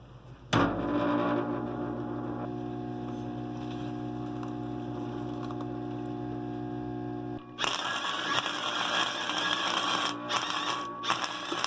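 A license plate holder being welded for a trailer: a steady electrical hum runs first, then gives way to a loud, continuous crackling buzz for the last few seconds, close and alone.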